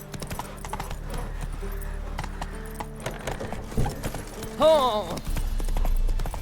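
Horse hooves clip-clop on the road in The Witcher 3 video game, a steady trotting beat under game music and a low rumble, with a brief exclamation and a horse whinny near the end.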